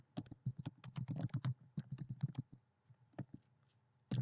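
Someone types on a computer keyboard while writing Java code, and the keys click and clack quickly and close up in an uneven rhythm. The typing trails off into a few scattered keystrokes, with no talking.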